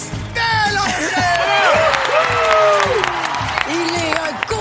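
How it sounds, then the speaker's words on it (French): A live audience gives a thundering round of applause for a TV co-host, dense clapping mixed with whoops, cheers and voices, loud and sustained throughout. "Faites un tonnerre d'applaudissements pour l'incroyable Patrice Bélanger!"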